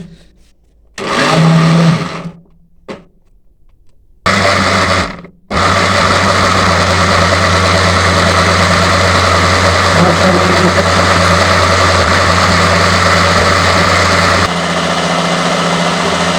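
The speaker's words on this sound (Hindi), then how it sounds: "अब हम इसको ग्राइंड कर लेंगे।" An electric kitchen grinder blends ginger and garlic into paste, whirring loudly in two short bursts before settling into a long continuous high-speed run that hums on steadily without talk.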